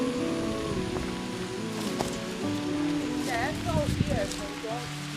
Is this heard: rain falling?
yes